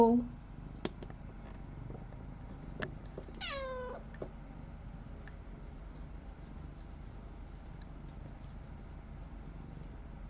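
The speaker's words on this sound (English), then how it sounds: "Can you hear her meowing?" A cat gives a short, rising-and-falling meow close by, with faint background hiss, scattered small noises and a high insect-like chirping later on.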